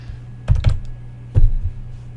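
A few quick keystrokes tapped on a computer keyboard, close and clear, in two short bursts with a pause between them and no talking.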